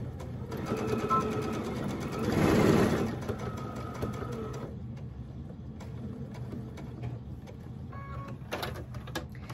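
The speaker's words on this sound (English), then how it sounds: "Alright, so I am just going to start sewing." Domestic sewing machine stitching a quilted mug rug, its steady motor whir running through most of the span with a louder burst midway, then easing into lighter mechanical ticks and clicks near the end; no talk.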